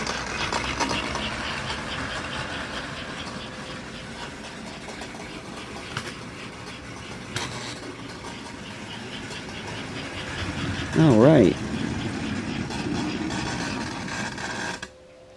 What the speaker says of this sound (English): The E unit's a little noisy back there